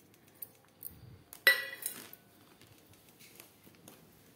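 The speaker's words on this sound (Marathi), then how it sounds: "पूर्ण साहित्य एका भांड्यामध्ये टाकून घ्यायचं मोठ्या पातेल्यात, जेणेकरून आपल्याला ते व्यवस्थित कालवता येईल" Mango pickle ingredients tossed together in a large metal pot: a few light scrapes and clinks, then one sharp metallic clank followed by a short rattling burst, with quiet stirring noises trailing off.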